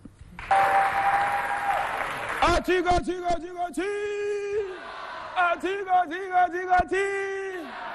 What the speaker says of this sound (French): On applaudit les deux équipes une fois de plus par des applaudissements bien fournis.